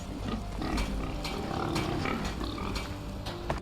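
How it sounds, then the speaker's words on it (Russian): A pig in the video game Enderal: Forgotten Stories grunts and snorts in a rough, busy run of noisy squeals over game ambience. "Еще одна свинья."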